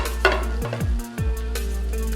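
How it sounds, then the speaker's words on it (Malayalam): Chopped garlic and finely cut beans sautéing in a pan for a mixed vegetable stew, a steady close sizzle with scraping stirs and a few utensil knocks against the pan, no voices. "അതിലേക്ക് ഇങ്ങനെ ഒന്ന് സോട്ട് ചെയ്യും"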